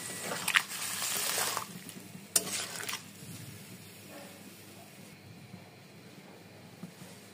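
Water is poured into a pan of fried egg curry. A short splashing rush comes at the start, then a second brief burst, before it settles into a faint, quiet simmer.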